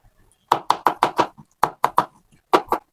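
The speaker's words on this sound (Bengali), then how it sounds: "রসুন গুলা কুটে নিলাম।" A knife chops garlic on a board in crisp, close knocks, a quick run of five, a pause, then three more and a final pair, with no talk.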